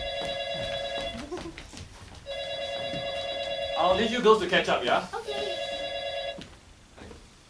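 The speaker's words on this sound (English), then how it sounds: "I hate that ringtone." A phone ringtone repeats in three electronic bursts with short gaps between them. Conversational voices come in over the middle ring, and the tone continues fairly close and clear.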